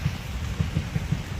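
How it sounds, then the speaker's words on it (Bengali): Heavy rain falls as a steady, soft hiss broken by a few dull low thumps, all fairly quiet. "আবার জোরে বৃষ্টি চলে এসছে"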